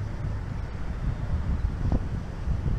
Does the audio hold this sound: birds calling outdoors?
no